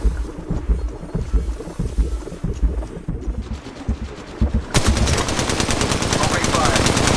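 Rapid automatic gunfire from the mobile battle-royale game Apex Legends Mobile in first-person mode: scattered shots first, then a loud, sustained burst of fire filling the last few seconds.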